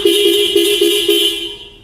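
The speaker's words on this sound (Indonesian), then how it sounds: "lengkap juga dengan klakson" The horn of a custom Honda Monkey motorcycle gives a loud, close, steady electric beep. It pulses several times in quick succession, then fades away.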